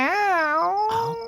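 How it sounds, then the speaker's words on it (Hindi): A single drawn-out cat meow, loud and close, rising then falling in pitch before trailing off. "साला बिल्ली ने भी परेशान करके रखा है।"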